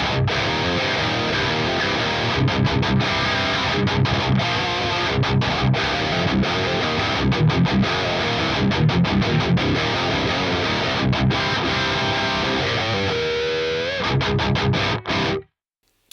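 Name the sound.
Axe-Fx III Mesa Mark guitar amp with Super Overdrive input boost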